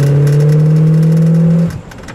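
A 1966 Ford Fairlane GTA convertible with a 390 V8 engine, heard close up holding a loud, steady engine note that then drops away sharply as the throttle is released.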